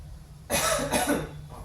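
A single harsh cough, two quick bursts close to the mic, then quiet.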